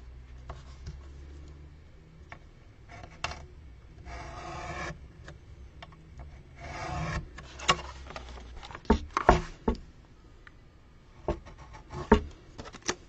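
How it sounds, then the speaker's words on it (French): A scalpel cuts paper for a family scrapbook album, giving soft scraping strokes and sharp scratchy bursts, close and intermittent, with a few louder taps near the end. "Je prends mon scalpel."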